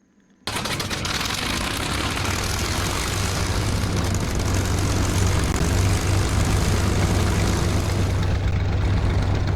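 A fighter plane's engine in Arma 3 with the Flying Legends mod starts abruptly after a brief silence, then drones as a loud, steady propeller roar with a constant low hum.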